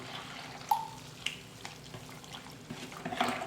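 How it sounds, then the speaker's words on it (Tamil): Water is poured into rice flour and stirred in a bowl for spicy kozhukattai batter, giving soft splashing, sloshing and a few light clinks, quiet and close with no talking. "தண்ணி ஊற்றி மாவு வந்து நல்லா கரைச்சி எடுத்துக்கணும்"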